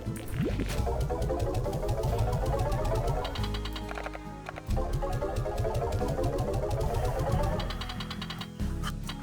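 Tractor engine in the Slime Rancher video game, a rapid mechanical chugging putter with steady repeating pulses, fairly close and continuous, briefly dropping and resuming.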